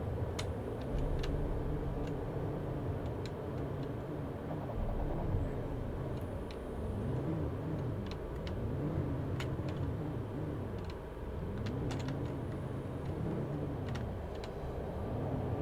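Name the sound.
vehicle driving in Planet Crafter video game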